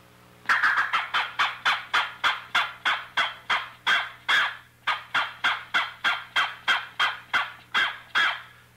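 A handheld squirrel call mimics a gray squirrel bark, producing a loud, rapid series of about two dozen sharp, evenly spaced barks close up, with no talking.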